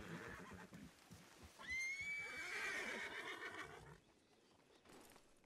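A horse in the Western video game Red Dead Redemption gives one loud, drawn-out whinny that rises and trails off over a couple of seconds, backed by faint hoof and ambient game sounds.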